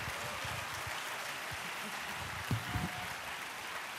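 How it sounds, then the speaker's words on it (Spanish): Audience applause at a Latin music awards ceremony, a continuous broad wash of clapping from a large crowd in a hall, steady and moderately loud with a few sharper claps near the end. "yo quiero que le den un fuerte aplauso a los técnicos de sonido, los técnicos de iluminación y la gente que ha hecho todo esto"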